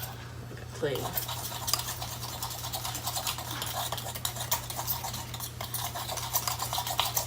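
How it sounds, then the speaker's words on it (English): Thick clay face mask paste stirred and scraped around a bowl, wet squelching and clinking of a utensil, continuous and close with a low steady hum behind. "You can hear all that mixing up in here"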